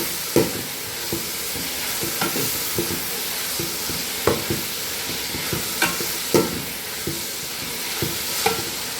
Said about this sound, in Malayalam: ഈ അടുപ്പായതുകൊണ്ട് പെട്ടെന്ന് വഴറ്റി കിട്ടും കേട്ടോ.